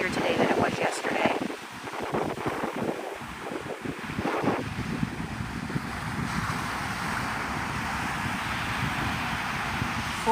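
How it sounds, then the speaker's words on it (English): Strong wind buffeting a microphone on Navarre Beach, Florida at sunrise, a steady loud rush throughout with surf mixed in, and a voice talking over the first few seconds. "Sorry if the wind is kind of annoying. It's, you know, it's more breezier today than it was yesterday."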